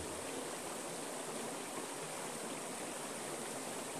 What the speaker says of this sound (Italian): Godi della pulizia di questa cascata